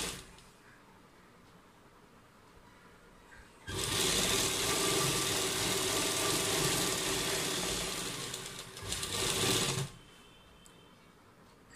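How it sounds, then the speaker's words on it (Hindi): An electric sewing machine stitches the side seam of a girl's top made from leftover cloth, running in a loud, steady whir for about six seconds before stopping, with quiet handling sounds before and after. "अब हम साइड की फिटिंग की सिलाई लगा लेंगे।"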